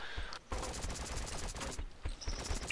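Gunfire in a shooter video game, rapid automatic bursts rattling almost continuously with one brief break early on, loud and close, with no talk over it.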